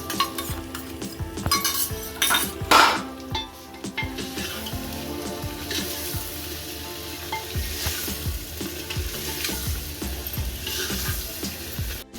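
Garlic paste frying in oil in a pot during biryani prep, a constant crackling sizzle with repeated metal spoon scrapes and clinks as it is stirred, close and steady throughout.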